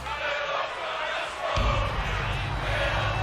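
A video game arena crowd in WWE 2K22, set in London, England, roars as a broad steady wash of noise that swells louder midway, with a commentator talking over it.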